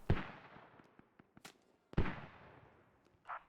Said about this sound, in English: And you can hear those mortars coming.